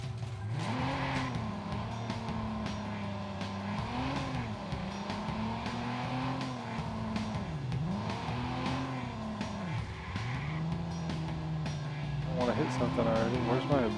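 Car engine revving and rising and falling through a handbrake turn in the video game Watch Dogs, tires squealing near the end, with a person talking over it throughout.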